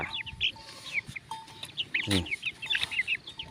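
Chickens cluck and chirp in short, scattered bursts close by, with a brief scratchy rustle in the middle.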